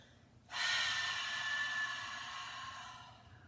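A long, steady open-mouth exhale during a yoga breathing practice, a soft breathy rush that starts abruptly and slowly fades, heard alone and close.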